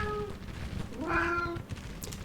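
A cat meows twice nearby, a short cry followed by a longer rising-falling meow, over low background noise.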